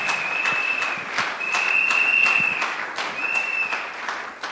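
Worshippers in a church clap loudly and continuously, with sustained high cheers or whistles rising above the applause throughout.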